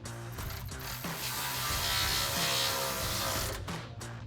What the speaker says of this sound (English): then we'll tighten it up with our 10mm socket